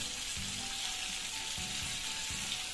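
Dry chili sizzles in hot ghee for a dal tadka, a steady close crackling hiss that stays even for a few seconds, with no voices.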